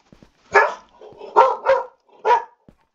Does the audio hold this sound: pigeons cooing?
no